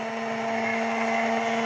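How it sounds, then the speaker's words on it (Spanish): A hand blender whirs steadily through cherry mousse mixed with condensed milk, a constant close motor hum with a sharp tonal whine and no pauses. "Y volvemos a introducir la batidora. Y lo vamos a batir todo otra vez."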